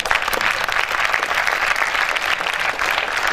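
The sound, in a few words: audience applause in a hall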